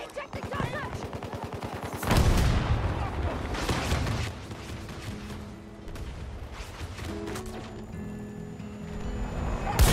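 Sniper rifle shots and gunfire in Battlefield 2042 crack out as sharp, loud reports over a busy game soundscape with rumbling explosions, while voices are heard in between.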